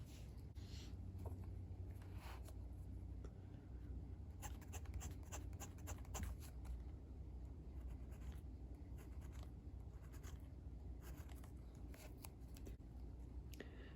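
Scratchy strokes of a Ranga Model 5 fountain pen with a Bock nib on paper, soft, close and steady, in short repeated bursts of line drawing with no speech.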